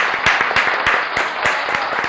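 Audience clapping at a Tamil comedy debate show, a lively, fairly close burst of many hands with distinct sharp claps in an uneven rhythm, continuous and alone without talk.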